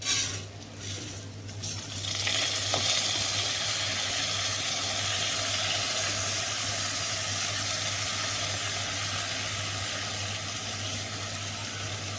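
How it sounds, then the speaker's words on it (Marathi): Soaked rice fries in hot ghee with cloves and cinnamon, a steady, close sizzle that settles in after a brief clatter at the start and continues evenly over a low hum. "तांदूळही तुपामध्ये चांगले दोन मिनटापर्यंत तरी परतून घेऊयात"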